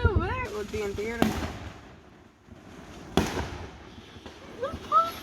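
Fireworks go off at some distance, with two sharp booming bursts and rolling echoes between quieter stretches, while people talk nearby.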